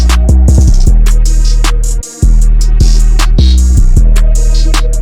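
A loud type beat pounds out a deep sliding 808 bass pattern under bright hi-hats and melody, with a brief drop-out near the middle before the groove resumes.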